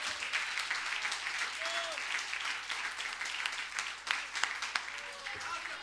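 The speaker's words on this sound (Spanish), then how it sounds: "Denle un aplauso a él entonces." Congregation applause during a church sermon fills the space with a steady wash of clapping, dense and continuous, with a few sharper claps standing out near the end and brief voices rising above it.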